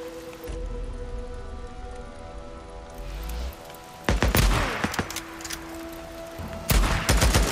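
Gunfire in the video game Days Gone: after a quieter stretch with a low hum, several loud, sharp bursts of shots crack out in quick clusters, close and forceful.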